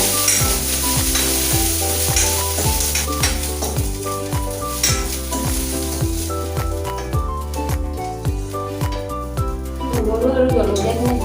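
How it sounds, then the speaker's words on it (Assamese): Chillies and garlic frying in oil in a home kitchen, giving a steady, close sizzle that runs the whole time beneath louder background music. "নহৰু আৰু জলকীয়াখিনি ভাজি হ'ল"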